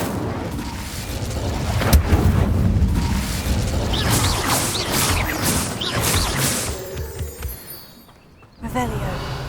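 Incendio fire spell cast in Hogwarts Legacy, a burst of magical combat effects with booms and crackling impacts that continue steadily under a voice, then briefly drop off near the end before returning.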